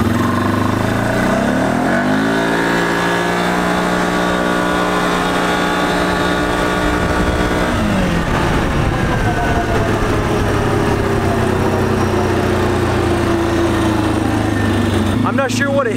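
A Can-Am Outlander 450 ATV engine accelerates hard and loud, its pitch climbing steadily, easing briefly near the middle, then rising again under wind noise throughout.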